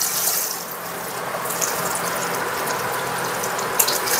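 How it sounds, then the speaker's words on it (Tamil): Water pouring steadily into a pot of rice for biryani, a continuous close splashing and trickling stream with a few small clinks, no talk. "பார்த்தீங்கன்னா தண்ணி ஊற்ற போகிறாங்க."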